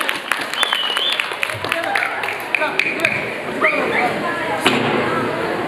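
Audience clapping at a school reunion of the 1987-88 batch of a Government Muslim High School, moderate applause with scattered whistles and a voice speaking over it.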